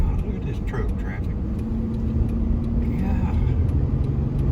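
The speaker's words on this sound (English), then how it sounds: "look at this truck traffic." Heavy truck traffic on the I-40 highway, heard from inside a moving vehicle as a steady low road rumble and engine drone, with people talking over it.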